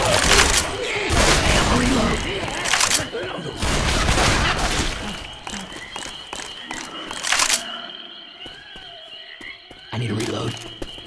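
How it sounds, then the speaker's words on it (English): Loud bursts of gunfire from the video game Left 4 Dead 2 come in repeated volleys with sharp reports and clatter, over busy game noise and talk. "Just stop shooting me."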